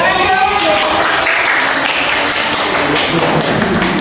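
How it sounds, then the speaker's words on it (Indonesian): A group claps together at an interpersonal communication training session, a dense, steady burst of applause that stays loud and even for several seconds. "Oke, tepuk tangan dong."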